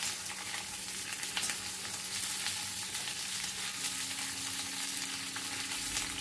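Capsicum and onion stirred and fried in a pan, with a constant bright sizzle and occasional utensil scrapes, close and steady, with no talking.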